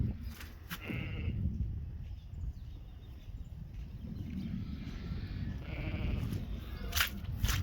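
Sheep and a newborn lamb bleating in an outdoor lambing paddock after a hard birth, several short calls spread across the stretch over steady wind-like rumble, moderately near, no talk.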